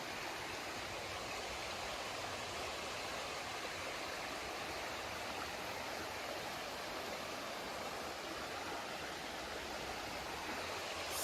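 Steady broadband rush of water pouring down from a waterfall in a forest, continuous and even with no voices.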